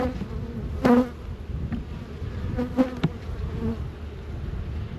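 Honey bees buzzing around hive frames in a cantaloupe-area apiary, a constant low hum with a few louder passes as bees fly close, no one speaking.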